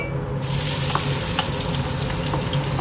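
Onions dropped into hot oil for chicken curry burst into a loud, steady frying crackle with small pops, close and continuous after a brief quieter start.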